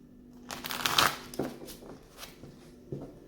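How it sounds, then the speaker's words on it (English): A deck of tarot cards riffled and shuffled by hand, a quick papery burst followed by a few lighter flicks and taps, close and quiet. "One last shuffle."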